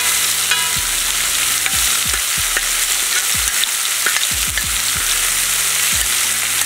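Onion sizzles steadily on a hot sadj over a low flame while a utensil scrapes and stirs it in repeated short strokes, with no one speaking.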